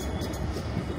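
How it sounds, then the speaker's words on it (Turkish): A tram rolls past on a street in Konya, Turkey, giving a steady, fairly close low rumble of rail wheels with faint higher rattles, and no voices over it. "Evet, Konya'mızın tramvayı da varmış."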